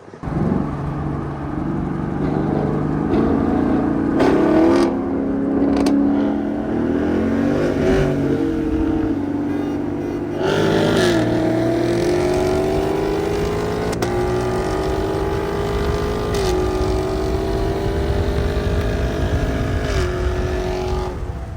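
A Mustang GT and a Camaro SS 1LE, both with 10-speed transmissions, accelerate hard side by side in a roll race on a public road. Loud, sustained engine roar climbs in pitch through repeated upshifts, with wind noise throughout.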